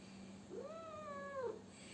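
A cat gives a single drawn-out, rising-then-falling meow, close and fairly clear over a faint steady hum, with no talking.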